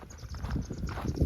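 Hooves of a cow walking away from a watering spot on a farm make soft, uneven clopping steps close by, with low rustling and faint background noise and no clear talk.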